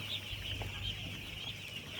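Chickens on a village poultry farm, heard as low, continuous clucking and murmuring from the flock under a steady high hiss, fairly faint and close.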